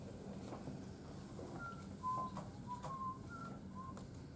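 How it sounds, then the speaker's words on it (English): Short whistled notes, a few brief tones rising and falling, heard faintly over a steady low background rumble. "Quit whistling. Hate whistling."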